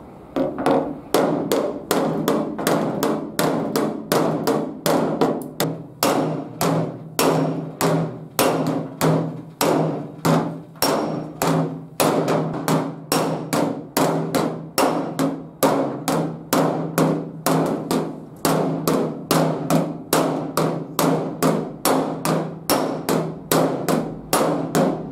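Steady hammer blows on the dented sheet-metal hood of a 1950 Ford, loud, close and sharply metallic, struck in a fast, even rhythm that continues unbroken with no talking.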